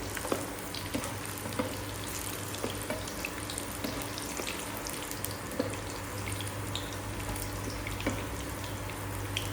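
Food frying in a pan over a low flame, a steady soft sizzle with faint crackles and occasional small clinks, continuous and fairly quiet throughout.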